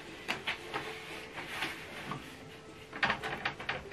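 The paper tray of an HP Envy 6020 printer loaded with A4 paper is pushed in by hand, giving a series of plastic clicks, slides and knocks at close range, with no talk.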